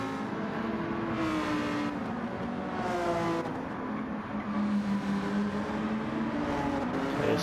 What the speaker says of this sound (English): See the cars streaming through.